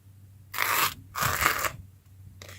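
A Rough Ryder bow trapper slipjoint knife blade slices through material in two rasping, crunchy strokes, each about half a second long and close up, then a third cut starts at the end.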